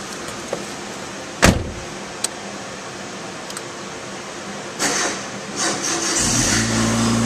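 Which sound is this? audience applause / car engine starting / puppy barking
car engine starting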